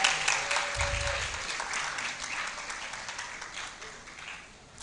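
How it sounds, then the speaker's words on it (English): Audience at a law faculty roll call ceremony applauds steadily for a graduate, a dense wash of clapping that gradually thins out. "Let's applaud Cecilia."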